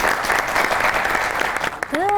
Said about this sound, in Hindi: बहुत सी तालियां होनी चाहिए हीर खान के लिए